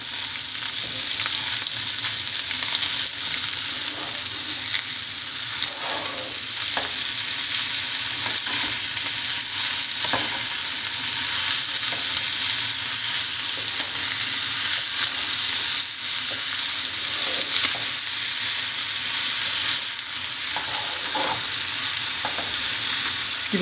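Continuous loud sizzling as onions fry in a pan, with faint scraping from stirring throughout; no one speaks.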